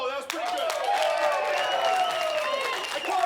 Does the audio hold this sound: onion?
no